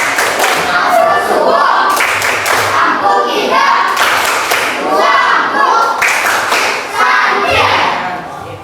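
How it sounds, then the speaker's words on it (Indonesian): An Indonesian group briefing performs the tepuk santiang clapping chant: loud, rhythmic, repeated hand-clap patterns in tight unison, mixed with many voices chanting along. "Coba kita mulai tepuk santiang dengan semangat."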